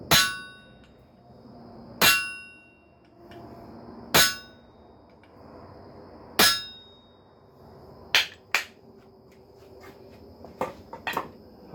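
A hammer striking another tool while forging steel for a jack-o'-lantern, ringing out as loud metallic clangs roughly every two seconds that each fade slowly, then several quicker, lighter taps at the end.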